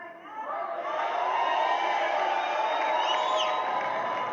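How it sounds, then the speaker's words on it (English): A large audience cheers and applauds in a sustained, steady roar at Trump's victory speech, with crowd noise building and holding throughout, a few whoops rising above it. "There was applause from Moscow"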